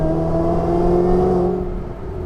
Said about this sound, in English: I just love the whine of this supercharger.